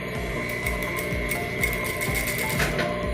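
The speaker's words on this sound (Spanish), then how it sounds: "Voy a hacer la primera costura." A sewing machine stitches a zipper into the cuff of a vinyl leather jacket sleeve, with a fast, steady rhythmic needle clatter and mechanical whir heard close up, no voices.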